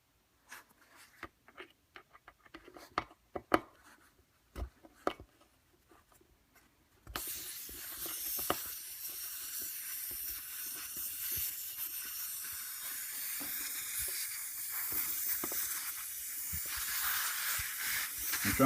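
Air hisses loudly and steadily from a tire once its valve core is pulled, following several sharp clicks and taps of the valve-core tool, and the hiss continues to the end.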